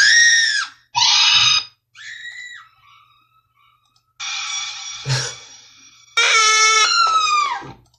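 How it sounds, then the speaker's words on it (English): Loud, shrill scream samples are chopped into a beat, each a short burst with gaps of near silence between them. A low thump sounds under one of the screams. "We got random screams going on."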